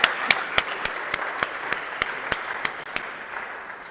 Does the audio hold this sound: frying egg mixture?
no